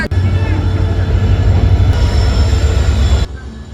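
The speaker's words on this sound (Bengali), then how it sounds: "এই হচ্ছে আমাদের ট্রেন দাঁড়ালো এসে 3 নম্বর প্ল্যাটফর্ম" A passenger train pulls into platform 3 at Jammu Tawi railway station with a loud, steady rumble and faint squeals, then the noise cuts off abruptly near the end.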